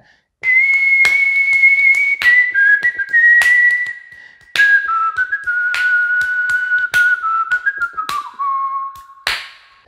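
A solo whistled theme melody in a light-music style glides through sustained, slowly descending notes, loud and clear, punctuated by sharp percussive accents between phrases.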